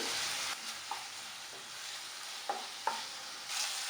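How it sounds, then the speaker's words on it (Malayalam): Ginger garlic paste sautéed in hot oil, a soft continuous sizzle with a few light spoon taps against the pan, close and quiet, no talking. "ഇഞ്ചി വെളുത്തുള്ളിയുടെ ആ ഒരു പച്ചമണം മാറുന്നതുവരെ മാത്രം നമ്മളൊന്ന് വഴറ്റി കൊടുത്താൽ മതി"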